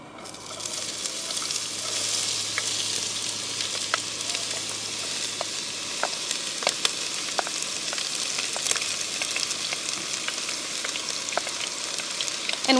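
Celery, onion and green and red peppers frying in olive oil in a pot, an even hissing sizzle with scattered faint pops and crackles throughout.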